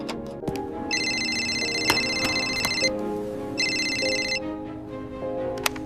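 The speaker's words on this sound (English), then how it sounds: "The phone rang." A telephone bell rings in two long bursts in an office, a bright, steady trill with a pause between rings, clear over faint room noise.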